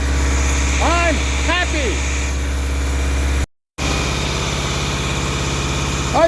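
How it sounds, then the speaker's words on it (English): A Mitsubishi engine swapped into a Dodge Challenger idles with a low, steady drone and an exhaust leak. The idle is close and constant, and people talk briefly over it. A short dropout cuts the sound midway. "we appear to have a running vehicle."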